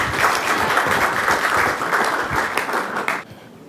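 An audience applauds to welcome a slam poet onto the stage at a live event, with dense, steady clapping for about three seconds before it cuts off abruptly.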